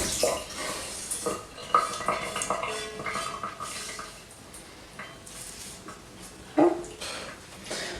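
Pasta gratin with salmon and spinach stirred in a pot or dish in a home kitchen, giving soft scraping and clinking of utensil against cookware, with a couple of sharper knocks, fairly close and continuous.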